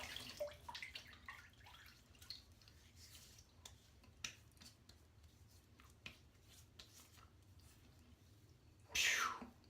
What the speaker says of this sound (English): It's just a touch of water to the face here.